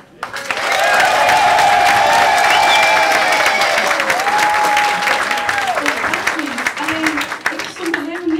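An audience in Rotterdam bursts into loud, sustained applause and cheering after a fashion show performance by five women, while a voice speaks over the clapping.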